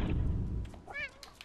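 A cat in the video game Stray gives a single short meow with a rising, wavering pitch, heard after a muffled rumbling thump.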